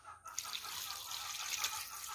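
A small amount of water is poured into a pot for cooking freshly caught crabs, a close, quiet trickle and splash that begins abruptly and runs on steadily.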